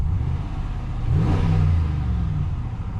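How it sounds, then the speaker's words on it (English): A Ram 1500 pickup with a 5.7-liter Hemi V8 revs its exhaust once, a deep rumbling idle swelling into a loud throaty rise and falling back to a steady burble, heard alone up close. "Little exhaust check while we're at it,"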